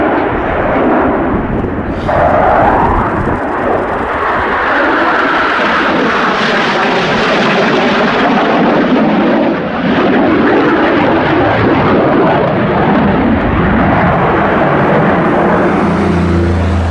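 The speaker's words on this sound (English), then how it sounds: "Really good demonstration here of the Rafale surging performance here on the 45-degree line" A Dassault Rafale fighter jet roars through a flying display at the Royal International Air Tattoo, RAF Fairford, its loud engine noise surging and swelling continuously as it passes overhead.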